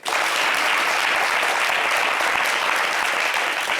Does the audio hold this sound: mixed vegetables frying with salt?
no